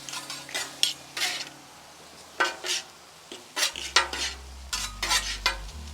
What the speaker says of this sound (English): Throw some butter on the grill, and we're gonna cook the steak right on top of that butter.